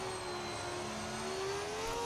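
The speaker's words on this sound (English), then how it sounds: "These sound like early 2000 engines." A Formula 1 race car engine in the video game F1 25 holds a steady, high-pitched whine that climbs slightly as it revs, loud and continuous with no talking.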